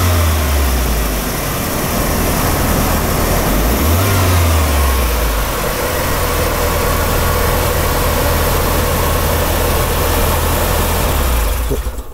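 A UAZ Buchanka van engine idles with a steady low rumble while still cold, rising in pitch briefly as it revs once early on, then settling back to a smooth, even idle.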